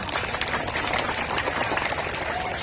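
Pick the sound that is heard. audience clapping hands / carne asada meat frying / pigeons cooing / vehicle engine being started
audience clapping hands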